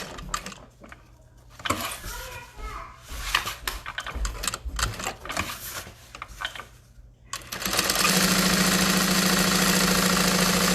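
A sewing machine stitches a tote bag with a quarter-inch seam, running in short bursts of rapid needle chatter with pauses for back-stitching, then settling into a long, loud, steady run.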